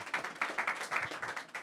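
A campaign event audience claps in quick, fairly steady bursts that sound close and lively, with no voices over it.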